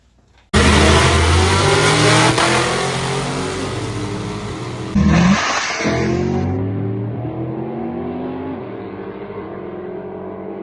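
A loud drag race car roars off the line at full throttle, then shifts gear and fades as it speeds away down the track.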